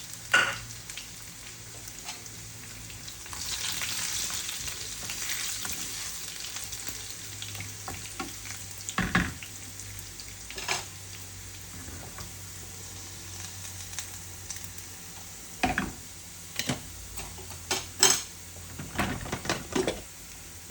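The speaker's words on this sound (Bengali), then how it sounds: "এখন আমি রসুনটা দিলাই আর বিসমিল্লাহ।" Garlic fries in a pan with a steady soft sizzle, punctuated by sharp scrapes and clinks of a spatula stirring, the bursts growing more frequent toward the end.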